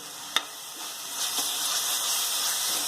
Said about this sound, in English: Now we'll add the 2 tablespoons of ginger garlic paste and we will stir it